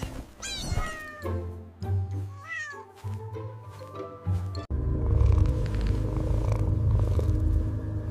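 A fluffy house cat meows in several rising and falling calls close to the microphone, followed by a steady, loud purr-like rumble that continues to the end.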